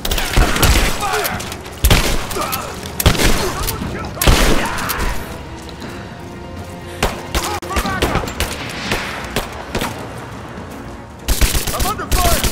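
Gunfire in the video game Rise of the Tomb Raider, with loud bursts of rapid shots and heavy thuds repeated through the scene, broken by short pauses, alongside shouting game voices.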